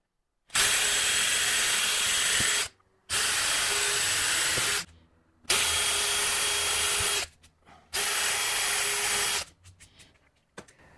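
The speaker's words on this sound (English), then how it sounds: "I'm using a small drill that will be the pilot size for the drywall screws I'll be using." Small drill boring pilot holes for drywall screws in wood, four loud, steady high-pitched whirring bursts of about two seconds each, separated by short pauses, close up and without talk.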